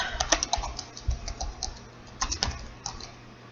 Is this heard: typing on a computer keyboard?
yes